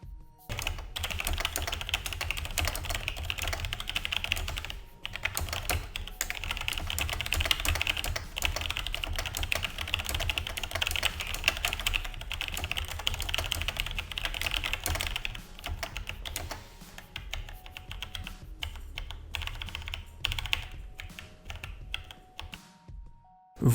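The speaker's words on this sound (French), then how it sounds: "on termine avec le bruit des interrupteurs" Steady, rapid clicking of a Logitech G613 wireless mechanical keyboard's switches being typed on, continuous and close, with no talking.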